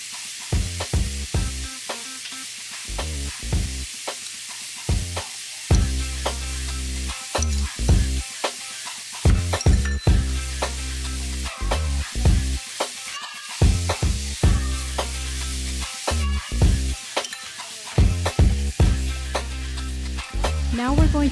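Sliced onions and bell peppers sizzling in a pan for an Asian-style Philly cheese steak: a constant frying hiss broken by repeated stirring clicks, set against a rhythmic, booming low backing throughout.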